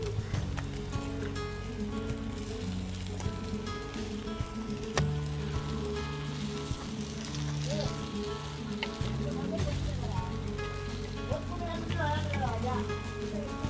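Jalla fish sizzling and frying in a pan of hot oil for a fish curry, a steady crackling hiss that holds for the whole stretch alongside a continuous low hum.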